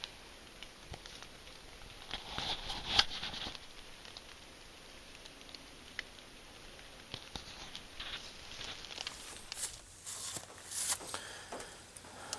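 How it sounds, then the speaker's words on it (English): Steady rain pattering on leaves and ground in woodland during a deer hunt, a soft continuous wash with scattered closer drops, moderately faint and with no talking. "Well, it's still raining."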